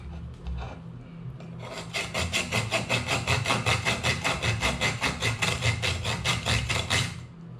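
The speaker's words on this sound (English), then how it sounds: "I don't wanna break too far into it when I'm sawing." A saw cuts into an ostrich eggshell with quick, regular rasping back-and-forth strokes, a few tentative strokes first and then a steady close rhythm of about twenty strokes before stopping.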